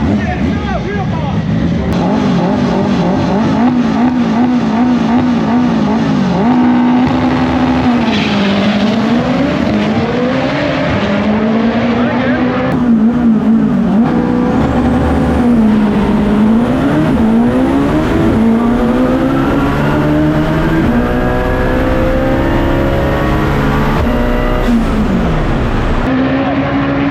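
Highly tuned Honda drag race cars at a UK drag event, engines roaring and revving hard through rising and falling gear pulls, loud and close with crowd voices over them.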